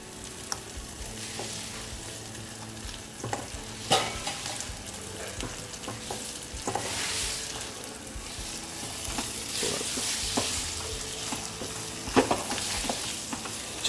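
Chicken pieces go into hot oil and masala for Pahadi bhuna chicken curry, raising a continuous loud sizzle with scattered metallic clinks and scrapes of a spoon stirring in the pan.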